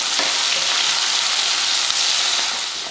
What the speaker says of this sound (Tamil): வெங்காயம் பூண்டு இந்த அளவுக்கு வதங்கினா போதும்